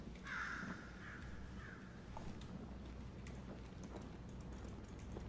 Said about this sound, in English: It was a crow.